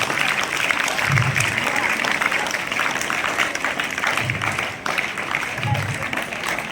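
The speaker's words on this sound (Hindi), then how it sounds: "तालियां बजाते रहो भाई, तालियां बजाते रहो" Continuous clapping rises from an audience at a school ceremony honouring students for board exam results, steady and fairly dense, with talk and crowd noise underneath and a short dip near the end.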